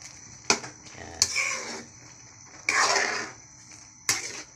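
Squid and fresh pancit noodles are sautéed in a pan. A few sharp metal utensil clanks ring out, each followed by a burst of scraping and sizzling stirring, close and fairly loud.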